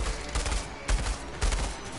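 Heavy gunfire in Outriders, several loud overlapping bursts over a constant background of shots and explosions.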